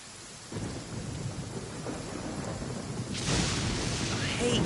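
Steady rain with rolling thunder in a game storm scene, a dull continuous wash that swells louder partway through as a deeper rumble builds.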